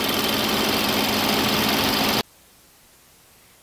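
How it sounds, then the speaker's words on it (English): A Ford Edge's 2-liter inline-four EcoBoost engine runs at a steady idle with a constant mechanical hum, then cuts off abruptly partway through, leaving near silence. "Under the hood is a 2-liter i4 EcoBoost engine."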